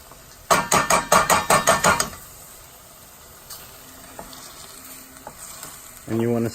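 Chicken giblets fry in coconut oil for a South African giblet curry. A spoon scrapes and stirs through the pan in a quick burst of about eight strokes, then a softer sizzle, then a louder final scrape.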